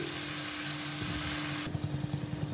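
Onions and tomatoes for biryani fry in a hot pan, a dense steady sizzle that suddenly drops away into a few soft stirring scrapes and light bubbling near the end.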